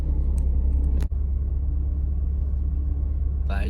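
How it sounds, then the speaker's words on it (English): A Ford Falcon AU idles with its bonnet open, a steady close low engine rumble that runs unbroken apart from a brief dip, with a faint thin sound near the end. "so we've left the car running and opened the bonnet to let it cool down"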